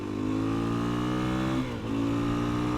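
A 2020 KTM 350 EXC-F dirt bike engine held at a high, steady rev, loud and close, with a brief dip and pull-back in pitch before climbing again.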